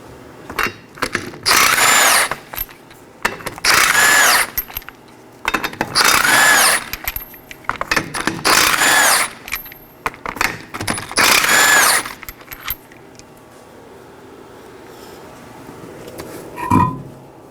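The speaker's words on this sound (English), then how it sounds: "Now we could go on and remove our 5 21mm lug nuts." Power tool spinning off the five 21mm rear lug nuts on a 2014-2019 Nissan Sentra: five loud, close impact-gun bursts of about a second each, evenly spaced, followed by quieter shop noise and a final short clatter.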